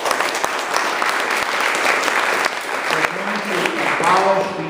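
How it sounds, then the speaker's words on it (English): Audience applause at a Tulane University talk, dense and sustained, with a few sharp individual claps standing out and voices rising over it toward the end. "that's wonderful, draws applause"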